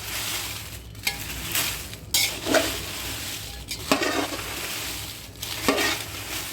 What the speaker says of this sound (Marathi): तर या पद्धतीने आपण एक एक एक एक करून सगळ्या मिरच्या छान तळून घेणार आहोत, भाजून घेणार आहोत